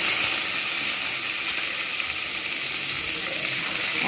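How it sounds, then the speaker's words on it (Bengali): Fish pieces frying in hot soybean oil for dahi shorshe pona, a steady close hiss and sizzle filling the whole stretch at even loudness, with no voices. "এবারে আমি সয়াবিন তেলেতে দিয়ে ভেজে নেবো"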